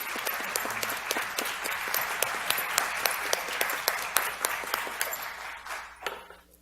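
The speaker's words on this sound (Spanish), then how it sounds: "Un aplauso, por favor, a la doctora." An audience at a mental health event applauds a doctor, with close, distinct hand claps in a quick irregular patter over a softer crowd clapping bed, thinning out and fading near the end.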